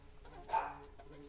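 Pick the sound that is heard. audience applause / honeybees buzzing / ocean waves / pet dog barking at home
pet dog barking at home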